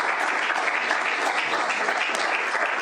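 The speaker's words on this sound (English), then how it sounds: "Big round of applause." An audience at a conference claps continuously for a panelist taking the stage, a dense, even wash of applause sustained for a few seconds with no pause.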